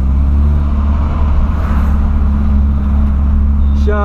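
Volkswagen Voyage GL engine revving hard, a loud, deep, sustained engine roar held at high revs with steady droning tone throughout.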